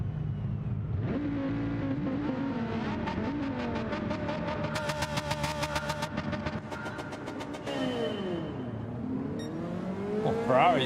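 Race cars including a Ferrari launching off the start in Gran Turismo 7, engines revving and rising in pitch through gear changes, a close droning pack of cars accelerating together.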